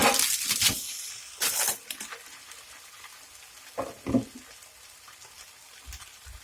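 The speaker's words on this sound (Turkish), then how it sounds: "Diğer tavanı kızartıyoruz." Anchovies fry in an oiled pan, giving bursts of loud sizzling and crackling that flare up and die down several times between quieter stretches.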